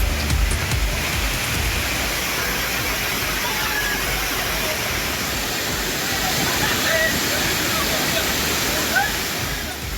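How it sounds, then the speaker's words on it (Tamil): Steady broadband rush of Thirparappu waterfall in Kanyakumari district, with people bathing in the falls, continuous and loud throughout, faint voices blended into the roar. "பிரபல சுற்றுலா தலங்களில் ஒன்றான கன்னியாகுமரி மாவட்டம் திருப்பரப்பு அருவியிலும் மக்கள்"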